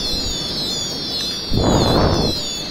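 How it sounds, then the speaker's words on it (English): A rocket launches in the video game Goat Game: one loud, whooshing burst of under a second, heard over a steady high electronic hum. "Rockets."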